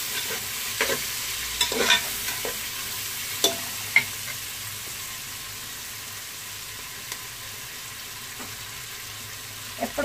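Vegetables for a vegetable biryani fry in a pan under a continuous sizzle, with scattered scraping and clinking stir strokes throughout, close and fairly quiet.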